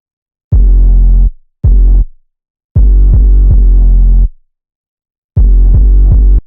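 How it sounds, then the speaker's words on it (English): Heavy 808 bass from a rap beat hits in loud, booming bursts: two short notes, a longer sustained one, then a quick cluster of three, separated by silence. "these 808s do get crazy toxic and overload the beat a lot"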